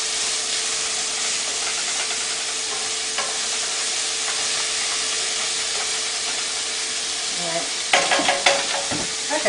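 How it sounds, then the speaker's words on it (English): Gumbo ingredients sauté in a pot with a steady, close sizzle and hiss running the whole way, with a few clinks of stirring near the end. "So, I'm just going to saute a little bit."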